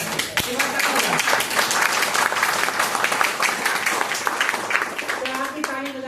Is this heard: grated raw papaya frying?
no